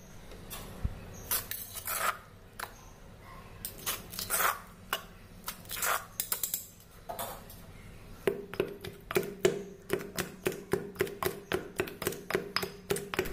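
A stone pestle pounds cooked gongura leaves with green chillies in a stone mortar, village-style, producing repeated grinding thuds and scrapes, slow at first, then a steady, faster rhythmic pounding, close and clear.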